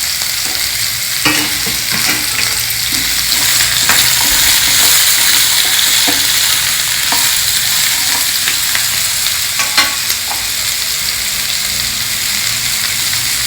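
Chopped pumpkin pieces fry and get stirred in hot oil with cumin seeds and two green chilies, giving a steady, close crackling sizzle with scattered scraping clicks throughout and no voices.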